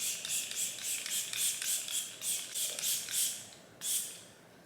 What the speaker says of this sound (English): set my face with the Milk Hydro Grip Set and Refresh Spray